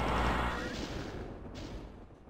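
Gunfire in Doom 2, played on a PS4 Pro: a single loud, heavy blast at the start that rolls off into a decaying, rumbling tail, with no talk over it.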